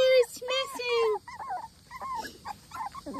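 Australian Shepherd puppies whimper and whine in short high-pitched cries, close and fairly loud at first, then softer and broken up, with faint growly sounds between them.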